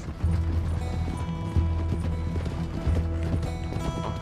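Steady, rhythmic clip-clop of galloping horse hooves in Red Dead Redemption 2 repeats throughout, close and moderately loud over a low rumbling background.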